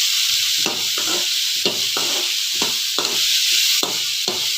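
Carrot and beans stir-frying in a pan: a constant sizzle under a rhythmic series of about eight scraping strokes from a spatula, evenly spaced and close, with no voices.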